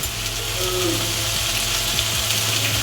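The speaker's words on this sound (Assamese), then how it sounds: "এইটো গাজৰখিনি দি কিনে মই ভাজি লোৱা হ'ল" Carrots fry in a pan with a constant close sizzle over a low background hum, joined by a few light clinks and stirs.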